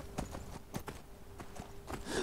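Horse hooves clip-clop at a steady walking rhythm in a video game, faint and fairly close, with a few scattered clops and no talk over them.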